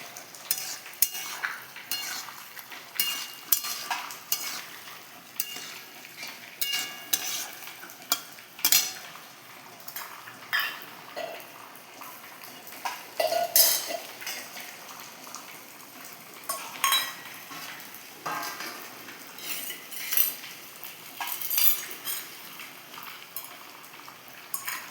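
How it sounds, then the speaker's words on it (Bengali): Spices are stirred and mixed into a vegetarian papaya and potato curry in a pan, with quiet, irregular scraping and clinking of a utensil against the metal and no talk. "এবার আমি মশলাটা মিক্স করে নেব ভালো করে"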